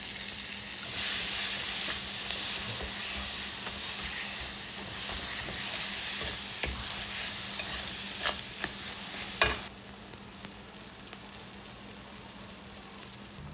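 Masala paste sautéing in a pan with fried cashews, tomato, green chilli and onion, a soft continuous sizzle with scraping stirs and a sharp clank near the middle, close and moderate.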